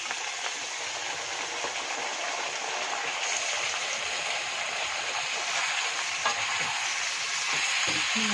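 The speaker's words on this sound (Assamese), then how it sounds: "মাংসখিনি এনেকৈ লৰাই" Meat frying in plenty of oil in a pan after browned onions, a dense continuous sizzle with occasional stirring scrapes and clatters, close and steady throughout.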